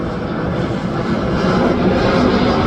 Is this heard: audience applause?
no